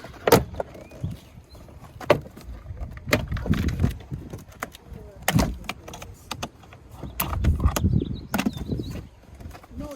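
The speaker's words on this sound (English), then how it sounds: "Just like that, door card is off." Removing an interior door panel from a drift car in a driveway: sharp plastic clip pops and snaps at intervals, with rustling and thumps of the panel being worked loose, close and fairly loud.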